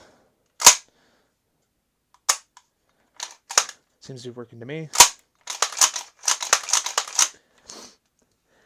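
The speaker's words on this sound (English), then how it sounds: "Dry fired a couple times." Several sharp metallic clicks and snaps of a Turknelli shotgun action being worked and dry fired, close up, with a brief spoken remark in between.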